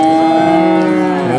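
Cattle low with sustained, resonant moos at the Qumtepa livestock bazaar, one loud call close by over a busy market background with no talk.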